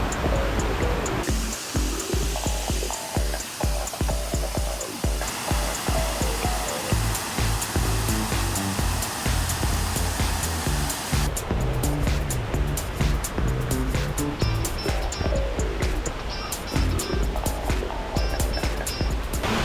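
A large waterfall in Ping Nam Stream, a rocky hillside stream, roars as a steady broadband rush of falling water that stays loud and close throughout, with faint rhythmic music layered underneath and no talking.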